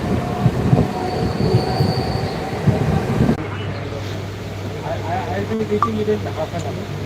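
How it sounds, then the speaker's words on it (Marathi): A crowded Mumbai local train runs toward Kalwa in the rain. Wheels rumble and roll loudly up close, with a drawn-out squeal and a steady drone, and people talk over it. "आता मुंबईवरनं निघाली गाडी"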